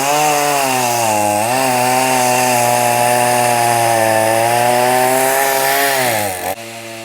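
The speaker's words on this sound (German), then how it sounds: "der schon angefangen hat, mit dem Baum zu sägen" A chainsaw cuts down a tree in a rural garden in Isaan, Thailand, running loud and steady with a strong harmonic whine that dips and rises as the load changes, then drops abruptly near the end.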